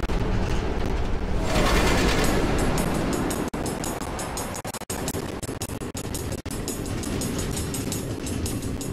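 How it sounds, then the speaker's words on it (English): Automated train rolling along tracks through the nether in Minecraft Story Mode, a steady loud rumbling clatter that runs throughout with a few brief dropouts, no voices. "Automated train tracks running all through the nether, connecting all the different order members?"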